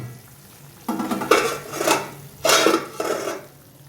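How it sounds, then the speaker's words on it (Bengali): Magur fish curry with bottle gourd shoots bubbling in a pan on the stove, heard as two bursts of hissing and clattering, close and fairly loud, between quieter stretches. "বেশ ভালো মতনই ফুটছে"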